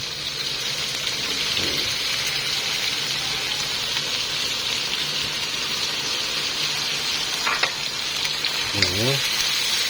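Pork liver and potatoes fry in a pan, giving a steady close sizzle throughout with occasional brief clinks and stirring noises; no one talks.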